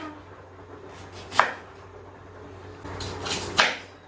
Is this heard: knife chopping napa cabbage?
yes